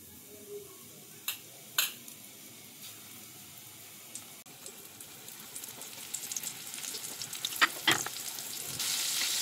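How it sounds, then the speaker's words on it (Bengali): Chicken pieces dropped one by one into hot oil, with a few sharp splashes early on, then a sizzle that builds and grows denser and louder toward the end. "তেলটা হিটে দিয়ে দিয়েছিলাম। এবার এগুলো তেলের মধ্যে এক এক করে দিয়ে দেব।"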